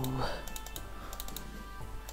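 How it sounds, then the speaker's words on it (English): Clicking while playing Plants vs Zombies in survival mode, with rapid light clicks scattered throughout, close up, over a steady background hum with a voice briefly at the start. "Ah, lots of clicking."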